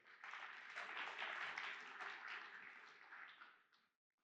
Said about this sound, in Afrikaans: Kom ons gee sommer vir die band net 'n hande klap.